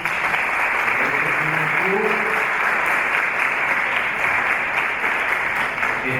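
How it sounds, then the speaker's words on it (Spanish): Steady, loud audience applause at the close of a cine club session, dense clapping holding evenly for several seconds with a few faint voices underneath. "Despidámonos todos con un fuerte aplauso."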